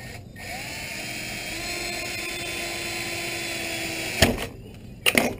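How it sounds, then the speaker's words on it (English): A power drill pre-drilling into tough plastic for a gravity feeder runs as a steady, fairly loud whine for about four seconds, then stops with a couple of short bursts and clatter near the end. "I guess I should be pre-drilling this. This is a tough plastic"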